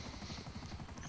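Helicopter in a PS4 video game, a constant low rotor thump with rapid blade chop and a buzzing whine, steady and fairly faint, with no speech over it.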